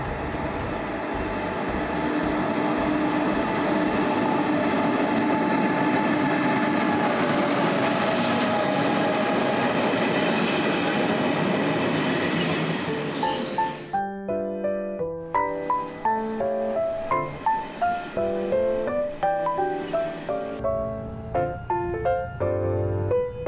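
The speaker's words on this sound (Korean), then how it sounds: "지금 열차가 오고 있습니다" A train rumbles loudly and steadily, then gives way to rhythmic clattering and tonal rail sounds as it passes close by.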